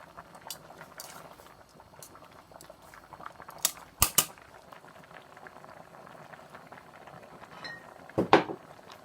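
Spaghetti boils in a pot of water, bubbling softly and steadily at low volume, broken by a few sharp metallic clanks of a utensil against the pot.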